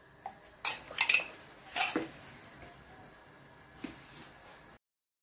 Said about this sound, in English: Split the tomato paste jar between the 2 pots